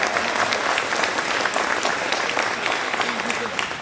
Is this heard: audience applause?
yes